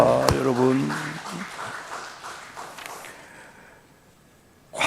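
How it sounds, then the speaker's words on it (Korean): Church congregation applause during a Sunday service, loud clapping under a voice at first, then fading away into near quiet before a sudden burst at the very end. "박수로 영광 돌립니다."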